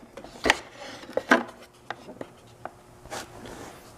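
Metal control box of an Allis-Chalmers rotary phase converter being opened, giving a few sharp clicks, scrapes and knocks close by, spaced irregularly and fairly quiet.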